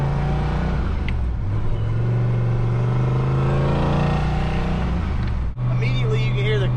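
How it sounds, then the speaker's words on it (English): A turbocharged Fox Body Mustang pulls away with its exhaust cutout open, a loud, steady engine drone climbing in pitch under light throttle before briefly dropping off and resuming near the end. "Immediately you can hear the cutout opening on the car, like with just a little bit of throttle input, you can hear it."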